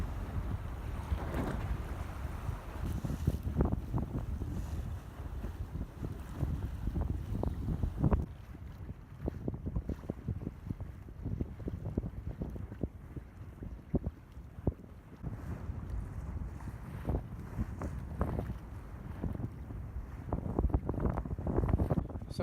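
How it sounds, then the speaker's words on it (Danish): A sailboat runs goose-winged with sails out to each side in fine weather, water rushing and slapping along the hull under steady buffeting wind noise, with no talk. "Og vi går goose-winged med sejl ud til hver side"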